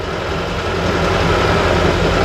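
A T-40AM tractor engine runs steadily at close range, a loud even low rumble with no breaks and no voices.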